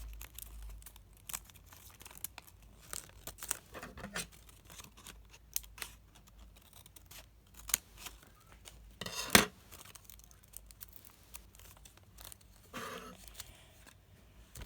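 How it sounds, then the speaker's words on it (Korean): Adult-size scissors cut paper while a paper model is folded. The snips and crinkles come as scattered short bursts that are quiet and close, with a sharper cut near the middle and another near the end. "가위로 잘라주세요"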